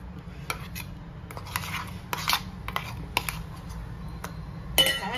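A spoon scrapes ground spinach paste for hara bhara veg kabab out of a grinder jar into a bowl, giving a run of intermittent scrapes and light metallic clinks over a low steady background rumble.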